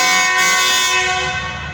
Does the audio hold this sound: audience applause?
no